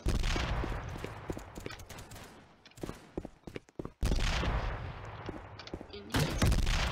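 Loud bursts of rapid gunfire from guns in the Roblox game Gun Testing, dense overlapping shots for several seconds, a brief lull with scattered single pops, then heavy firing resumes.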